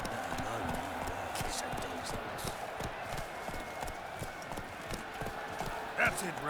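Roach the horse gallops in The Witcher 3, hooves pounding in a quick, close clip-clop rhythm throughout, with a brief whinny-like burst near the end and a voice speaking over the hoofbeats.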